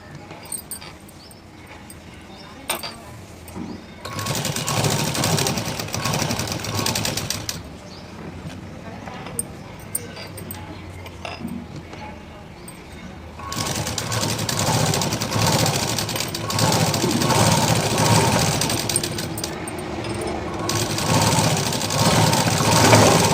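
A sewing machine stitches around the front part of a belt, whirring in two long loud bursts separated by quieter pauses, with a person talking in between.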